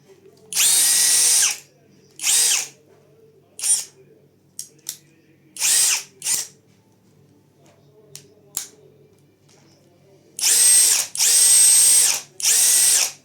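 Ingco CIDLI20602 cordless lithium-ion impact drill run in screwdriver mode, giving several short whirring bursts of varying length, with a long final spin near the mic, separated by quiet gaps and light clicks.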